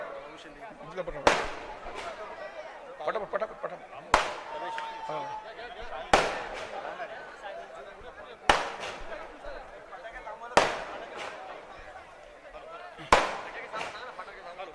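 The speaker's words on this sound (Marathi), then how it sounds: "थोडं फटाके थांबवा जरा थोडं" Six sharp firecracker bangs burst out at irregular intervals over steady crowd chatter at a political welcome event, each crack loud and close with a short ringing tail.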